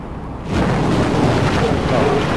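A storm in the Mad Max video game: a dense, steady roar of wind and rumble surges in after a quieter half-second and holds loud and unbroken to the end.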